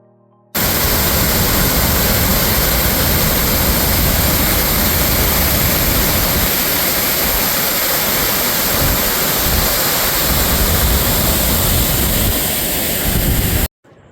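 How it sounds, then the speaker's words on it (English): Nugget Falls near Juneau, Alaska pours down in a loud, steady, broadband roar that holds unbroken for about thirteen seconds, with no voices over it. "Beautiful Nugget Falls."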